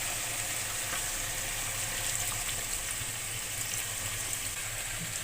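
Magur catfish frying with potatoes and vegetable stems in a pan, a steady close sizzle with soft stirring scrapes running throughout, no voices.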